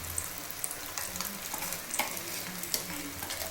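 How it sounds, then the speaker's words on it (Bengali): Shapla shrimp curry frying and being stirred in a pan with ground mustard paste, a steady close sizzle broken by repeated scraping strokes of the spoon, with no talk. "সেই সর্ষেটা এবার দেবো।"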